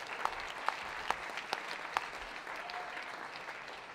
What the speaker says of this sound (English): Another round of applause for Michael Rycraft, everybody.